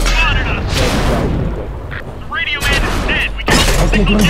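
Tank cannon fire and battle booms from the World of Tanks video game, with loud broadband blasts at about 0.8, 2.6 and 3.5 seconds amid continuous voice chatter and radio-style talk.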